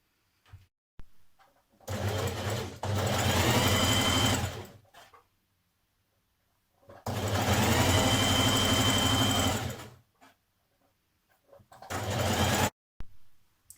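A sewing machine stitches the pocket panel of a Simplicity 8874 jersey dress in three loud, steady whirring runs of a few seconds each, separated by quiet pauses and small handling clicks.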